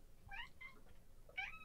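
A tabby cat meows several times in short, rising and falling calls, fairly close but soft, with a longer meow near the end.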